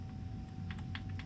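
Quiet, quick keystrokes clatter on a computer keyboard, a short burst of several taps with no voices.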